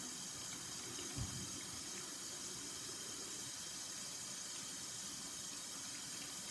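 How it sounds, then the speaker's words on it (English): Running water from a sink tap pours steadily while hands are washed before an animal dentist appointment, making an even hiss throughout with one brief soft knock early on. "we'll wash up."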